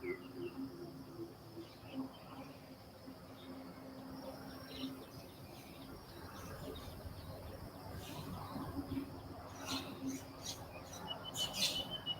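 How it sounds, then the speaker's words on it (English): Faint birdsong at sunrise in Thailand, with scattered chirps growing busier toward the end over a soft, steady bed of insect buzz and distant ambience. "I always like birds. Love to hear them sing."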